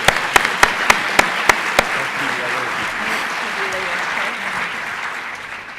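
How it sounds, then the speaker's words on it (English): Applause fills an awards event hall for a credit union executive honor, with a few sharp close claps at the start over a steady crowd of clapping that carries on evenly to the end. "one last round of applause for all of the people involved"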